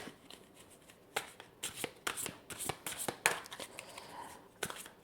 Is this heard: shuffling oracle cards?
yes